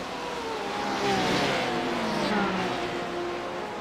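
Several race cars battle along the start-finish straight at Road Atlanta, their engines droning together in a steady, loud layered whine with shifting pitches as they run side by side.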